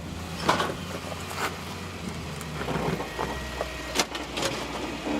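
Off-road 4WD vehicle engine with Zone off-road products fitted, climbing over a wall during a 4WD adventure event, a steady mid-distance rumble broken by sharp knocks and clunks.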